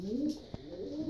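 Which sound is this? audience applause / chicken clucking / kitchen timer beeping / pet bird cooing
pet bird cooing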